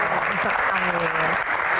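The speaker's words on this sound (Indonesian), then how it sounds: "Tepuk tangan dong" Audience applause at a dangdut music Q&A event, a short burst of clapping with a voice speaking over it and a brief sung or drawn-out tone running through.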